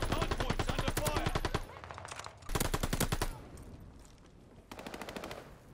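Loud, rapid bursts of automatic machine-gun fire rattle in a video game match, in several long strings of evenly spaced shots with short gaps between them, close and dominant.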